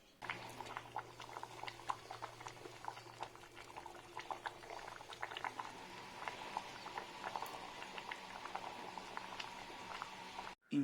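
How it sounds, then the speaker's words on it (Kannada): Massoppu saaru, a village-style mixed greens sambar with tamarind, simmers in a pot with soft, quick bubbling and irregular little pops, quiet and close, with no talk. "ಇಷ್ಟು ಮಾಡಿಕೊಂಡು 5 ನಿಮಿಷ ಕುದಿಸ್ಕೊಂಡ್ರೆ ರುಚಿ ರುಚಿಯಾದ ಮೊಸಪ್ಪು ತಿನ್ನಲು ಸಿದ್ಧ."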